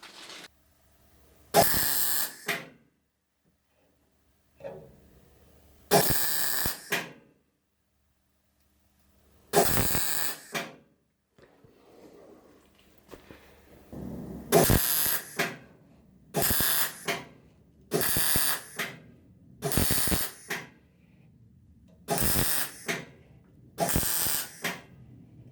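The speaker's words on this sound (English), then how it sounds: "I'm going to start welding." MIG-style welding bursts on rusty bodywork of a Citroën AZU van, about eight separate crackling runs of a few seconds each, loud and close, separated by short quiet gaps with faint handling noise.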